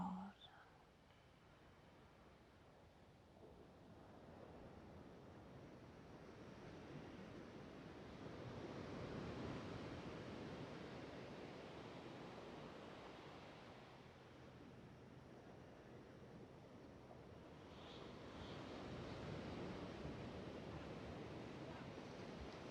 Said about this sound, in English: Just listen to the waves rolling in,